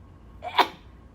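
One sudden, sharp sneeze bursts out up close amid a quiet room.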